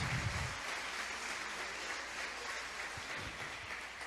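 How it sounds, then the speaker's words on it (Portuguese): A church congregation claps steadily during a worship service, a dense, even round of applause heard from a moderate distance with a low thump at the start and no talk. "Aplaude mais forte a Jesus."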